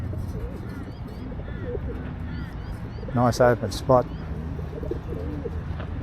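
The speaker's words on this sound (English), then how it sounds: "Right over there on the wires, a couple of hundred feral pigeons." Feral pigeons, a couple of hundred, perched on wires near grain silos, give soft low coos and brief calls in the background, with a few louder bird calls standing out midway. A person talks throughout.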